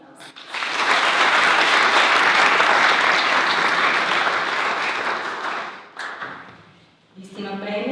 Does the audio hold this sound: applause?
yes